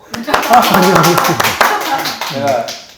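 Several people clap their hands briefly in a Korean studio chat setting, quick close claps mixed closely with ongoing conversation.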